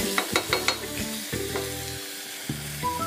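Leftover chicken frying in a pan for tinola, a steady close sizzle broken by several stirring clatters and knocks of a utensil against the pan.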